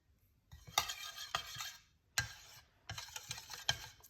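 Cayenne pepper being stirred into a mixture with a utensil, heard as several separate bursts of scraping and clinking against the bowl, close and fairly quiet, with short pauses between strokes.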